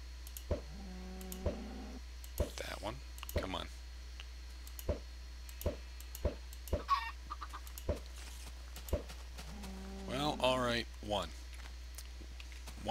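In the BarBaria game, chickens cluck in short bursts, one near the start and a busier flurry near the end. Sparse sharp clicks fall in between over a quiet, humming background.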